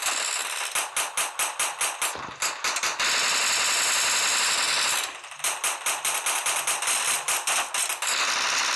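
Gunfire from a pistol in the video game Bullet Force rings out as rapid, close, sharp shots in quick bursts, with a steady wash of game noise between the volleys.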